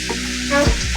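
Vegetables seasoned with salt and brown sugar sizzle and fry in a pan, with a steady close hiss and a brief stirring clatter partway through.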